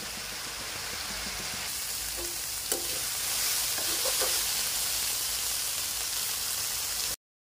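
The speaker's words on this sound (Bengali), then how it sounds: "সবজির মধ্যে নুন হলুদ দেওয়ার পর সবজিটাকে খুব করে নাড়াতে হবে যতক্ষণ না সবজিগুলো নরম হয়ে যাচ্ছে" Winter vegetables with salt and turmeric sizzle in a pan as they are stirred, a close, continuous hiss broken by a few scraping clinks of the spoon, then the sound cuts off abruptly.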